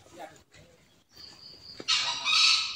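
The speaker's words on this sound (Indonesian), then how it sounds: "Ayam alas." Out in the forest, a wild jungle fowl gives a raspy, harsh crow that bursts in loud during the last second, after a stretch of faint ambience and brief low murmuring.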